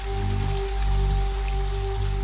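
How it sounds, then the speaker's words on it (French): Steady rain falls in a dense, even hiss, a continuous wash of drops with a constant low drone underneath and no voices. "lorsque les pluies vont s'abattre sur les flancs des montagnes"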